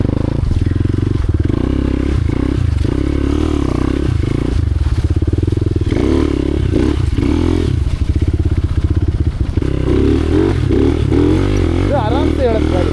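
A dirt bike motorcycle rides over a rough, unpaved road, its engine droning loudly and steadily throughout with clatter and thuds from the terrain, while someone talks over it.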